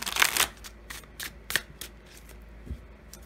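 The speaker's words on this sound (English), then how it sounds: "Let me get these shuffled really well." A tarot card deck is shuffled by hand, giving a loud riffling burst followed by several shorter flicks and snaps, close and alone without talk.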